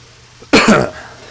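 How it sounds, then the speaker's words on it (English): A single harsh cough from a smoking character in the video game Deadly Premonition: Director's Cut, close and loud, with a short throaty double burst before fading into faint background hum. "Appropriate to cough during a smoke."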